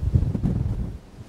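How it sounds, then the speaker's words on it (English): Low, rumbling wind buffets the microphone in uneven gusts at a coastal lookout at Lamlash on the Isle of Arran, loud and close, easing off toward the end. "Oh, windy."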